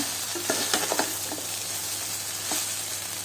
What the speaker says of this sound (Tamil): இப்போ இதில் வேக வச்ச சாதத்தை சேர்த்துக்கலாம். நல்லா கலரி கொடுத்துக்கலாம் பூ போல்.